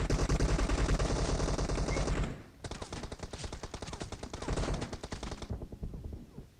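Rapid automatic gunfire in the PUBG Mobile video game, a dense burst of close, loud shots for about two seconds, a brief pause, then another sustained volley of quick rhythmic shots.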